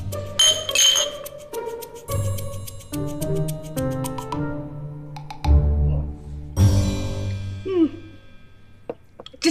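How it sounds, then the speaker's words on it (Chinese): Wine glasses clink together in a toast, several bright ringing chinks with lingering tones, some overlapping, spread across the moment at close range. "来，干杯！"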